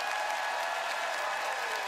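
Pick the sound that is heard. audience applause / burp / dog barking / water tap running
audience applause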